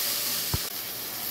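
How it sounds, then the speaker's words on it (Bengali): Hot oil sizzles in a pan with ground ginger, garlic, onion and chilli paste, making a loud, steady, broadband hiss with one brief soft thump partway through. "তেলটা ফুটে যাচ্ছে"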